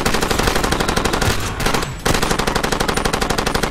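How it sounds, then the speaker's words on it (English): A mounted turret machine gun fires in the video game Far Cry 2, a loud, rapid, steady stream of close shots that breaks off for about half a second and then resumes at the same rate. "Oh man, get the turret."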